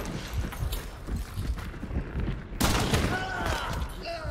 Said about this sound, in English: Nice shot, Neenoh.